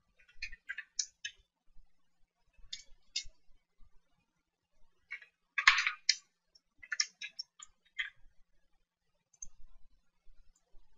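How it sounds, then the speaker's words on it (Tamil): Typing on a computer keyboard while working in Photoshop, heard as short, crisp bursts of key clicks with pauses between them, close and clear in an otherwise quiet room, with no talking. "பார்த்தீங்கன்னா டைப் பண்ணுறேன்."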